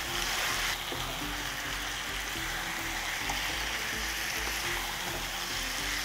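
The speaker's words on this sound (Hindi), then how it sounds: "प्याज ब्राउन हो गए, इसमें जाएगा मैरिनेटेड मटन।" Marinated mutton frying in a pan with browned onions gives a steady, close, even sizzle that stays continuous throughout, with faint stirring and no voices.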